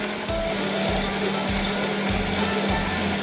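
A stand mixer works burger bun dough in a steady, whirring motor hum, with soft rhythmic thumps as the dough slaps around the bowl, fairly close and without talk.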